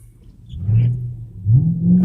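A car drives through rain, its low engine rumble steady and close, then rising in pitch twice as it speeds up, with no talking.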